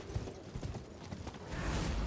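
Horse hooves clip-clop in a quick rhythmic gallop while riding in the video game Elden Ring, moderately quiet and close, with the pace settling into a denser rumble toward the end.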